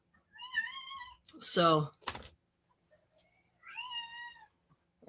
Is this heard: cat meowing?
yes